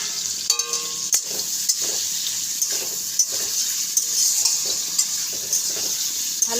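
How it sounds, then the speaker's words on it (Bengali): Potatoes and tomato being stirred into a frying pan for a Bengali fish curry, with a steady sizzle of frying overlaid by repeated scraping strokes of the spoon against the pan, close and fairly loud throughout. "তো এর মধ্যে এখন আলুগুলো আমি ঢেলে দেব।"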